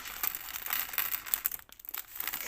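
A plastic bag full of LEGO DOTS pieces is torn and pulled open close by, giving a quiet, continuous crinkling and rustling with one brief pause.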